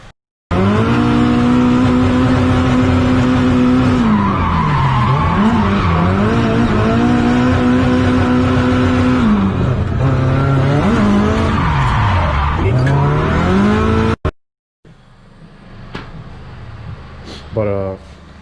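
A car laps a race circuit on its first lap, engine droning loud and steady with rising and falling revs as tires squeal through corners, then it cuts out abruptly, leaving quieter ambient noise and faint sounds.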